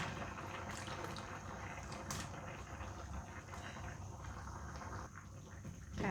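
A pot of Thai jungle curry with pork, eggplant and torn kaffir lime leaves simmers and bubbles softly and steadily, close by and faint, with no talking.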